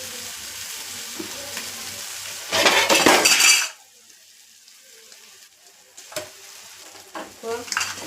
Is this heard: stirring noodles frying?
yes